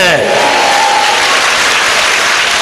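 A church congregation applauding loudly and continuously, a dense close wash of clapping with a voice briefly heard at the start.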